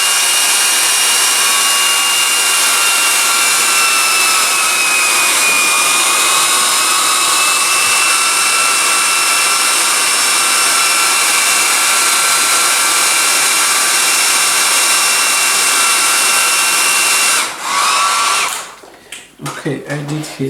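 A hot-air tool blows with a loud, steady whine and rush while heating the plastic of a Socket 7 CPU socket, then cuts off abruptly near the end, leaving brief handling noises.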